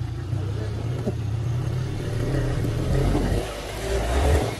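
Motorcycle engine revving and straining as it climbs a steep rough path up to Anjaneri Fort, a steady mid-pitched drone that swells near the end, with people talking over it.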